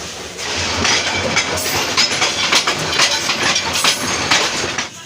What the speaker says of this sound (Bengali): তিস্তা এক্সপ্রেস ট্রেনটি ইতিমধ্যেই গফরগাঁও রেল স্টেশনে প্রবেশ করলো